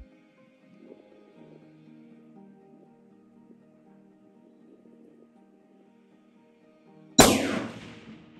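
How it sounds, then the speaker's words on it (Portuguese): A rifle fires a single loud, sharp shot with a ringing decay near the end, during wild boar hunting practice at a 300-metre target, after a stretch of quiet low background noise. "A gente está aqui numa distância de 300 metros, então dei o primeiro disparo"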